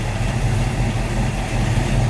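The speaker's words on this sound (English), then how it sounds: "Nice, smooth running engine, great sounding" Hemi V8 in a 1965 Plymouth Valiant Signet idling at close range, a steady, even low rumble that holds constant throughout with no voices.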